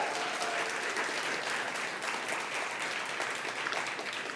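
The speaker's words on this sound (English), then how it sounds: "Let's give that a round of applause" An audience applauds steadily and fairly loudly at a Stop Food Waste Day celebration in Charlotte, a dense wash of clapping that holds evenly throughout.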